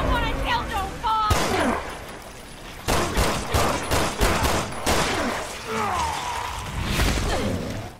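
Loud, repeated gunshots and a flurry of shooting from Resident Evil Revelations 2, in several clustered bursts mixed with whooshes and impacts, with voices speaking between and over the shots.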